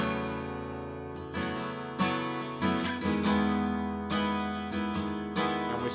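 An acoustic guitar rings through the intro chords of a song, letting open strings drone under repeated strummed chords in a lush, sustained sound, played alone at close range with no talking.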